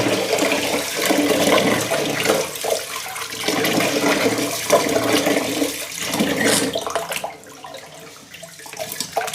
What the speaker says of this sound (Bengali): চাল ভালো করে ধুতে হবে